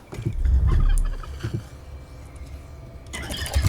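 Turkey gobbles from a video game bird, a few loud bursts over game background noise and engine-like rumble, with no talk over them.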